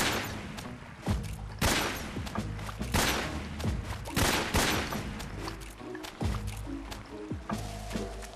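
Repeated gunshots ring out in Metal Gear Solid 3: Snake Eater as shots are fired at butterflies in a jungle, sharp loud reports in irregular bursts over several seconds.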